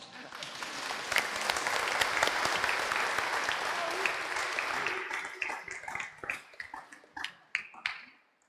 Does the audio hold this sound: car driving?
no